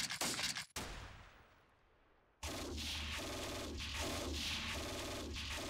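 Bursts of machine gun fire in the wargame Steel Panthers, with a sharp volley, a fading silence, then sustained rattling rounds and a final burst.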